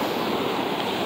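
Steady ocean surf washing against a rocky Alaska shoreline, a continuous broadband roar of waves with no distinct breaks, fairly loud and close, with no voices.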